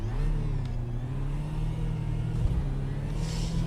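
Race car engine in the iRacing sim, restarting after a spin and stall, runs as a steady loud mid-pitched drone that rises and falls slightly as it gets going.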